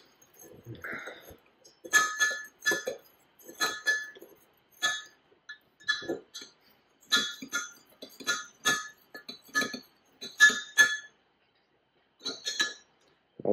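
A spoon clinks repeatedly against a glass while a salt-and-vinegar coin-cleaning solution is stirred, giving a series of bright, close taps in irregular bursts with short pauses between them.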